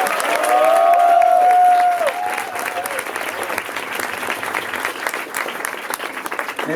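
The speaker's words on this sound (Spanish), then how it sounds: "de vuelta pido un aplauso para los compañeros que vienen de los Estados Unidos." Applause from a panel audience at a labor movement event, a dense roar of many hands clapping, loudest at the start, with a brief tone over it early on, then continuing steadily at a slightly lower level.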